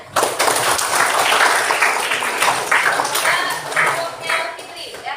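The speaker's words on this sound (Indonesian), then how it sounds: "Tepuk tangan dulu untuk temannya." Students in a classroom clap for their classmates, with a burst of close, uneven clapping that rises and then thins out while voices chatter over it.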